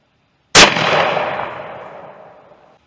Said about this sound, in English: I've got 4 hollow points left. I'm just going to go ahead and shoot it with those.